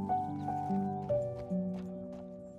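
Horse hooves clip-clop at a steady walking pace in Red Dead Redemption, east of Armadillo, with tonal game music sustained underneath and no talking over them.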